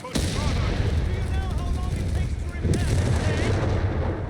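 Stummel halftracks fire in Company of Heroes 3 in a loud run of repeated gunfire and booming blasts. An excited commentator talks over the battle noise.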